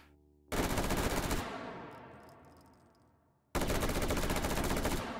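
Guns fire in the VR shooting game H3VR in two long, loud full-auto bursts separated by a decaying echo and a brief pause, harsh and close.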